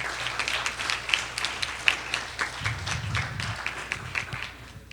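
Audience applause at a debate finals ceremony, a crowd clapping steadily and fairly close with a low rumble of movement beneath, continuing evenly throughout with no one speaking.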